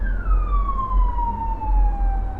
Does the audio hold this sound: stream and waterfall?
no